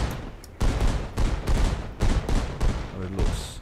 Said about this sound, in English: and then we will do a lot of explosions.